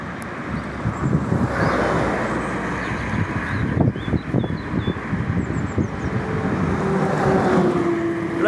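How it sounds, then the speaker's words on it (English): Road traffic with trucks and cars rumbles past close by in a continuous low roar, heard during a woodland walk, with wind buffeting the microphone and faint birdsong above. "Loads of trucks, loads of cars."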